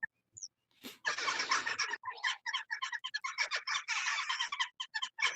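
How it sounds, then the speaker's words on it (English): A loud, close flock of birds calling in rapid overlapping bursts, harsh chattering cries almost like monkeys, dense and continuous after a brief quiet start. "They almost sound like monkeys, more so than birds on this side."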